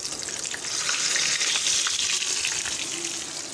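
Puri dough frying in hot oil hisses with a bright, bubbling sizzle that swells and holds at close range, with no talking over it.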